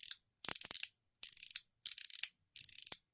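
Aluminium and resin fidget slider on a track, sliding back and forth in four or five short bursts of bright ratcheting clicks separated by brief silences, close and fairly quiet.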